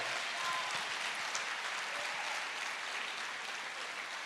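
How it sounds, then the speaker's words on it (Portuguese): A church congregation claps together in praise during a Portuguese-language service, a dense, even wash of hands heard from a distance at low volume for the full length. "Aplauda o nome de Jesus."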